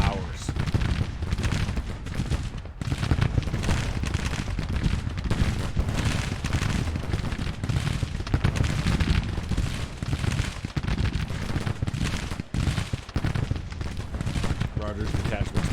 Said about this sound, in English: Surprised our 18th Maryland battery still has ammunition because they've been firing for hours.